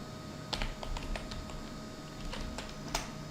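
Keys clicking on a computer keyboard as a terminal command is typed, a few quiet, close taps in short uneven bursts over a faint steady hum.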